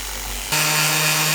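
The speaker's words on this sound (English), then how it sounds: "I need to sand it going this way anyway, so I'm gonna see if it'll work if I just hold it like this." A power sander with a new attachment works over a wooden kitchen surface, kicking on partway through into a loud, steady whirring grind that holds to the end.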